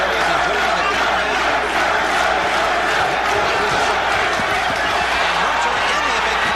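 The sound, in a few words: boxing match crowd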